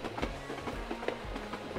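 A train rolling on rails in a Wild West CS:GO co-op mission, brief close clatter with rhythmic low thumps of wheels over track joints.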